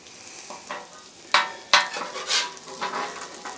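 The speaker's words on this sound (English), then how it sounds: "I want to get some butter down on each one" Butter sizzles and crackles under hash browns in a frying pan, a soft steady hiss broken by a few sharp scraping and tapping hits from a spatula, heard close with no talk.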